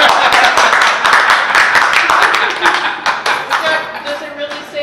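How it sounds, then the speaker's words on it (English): A poetry karaoke crowd at Malvern Books bursts into close, loud clapping that runs steadily for several seconds, then thins out as a few voices murmur underneath it. "Burst of applause."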